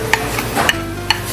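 A utensil scrapes and stirs strawberry polvoron mixture of butter and flour in a hot pan, giving a steady close rasp with a few light clicks against the metal.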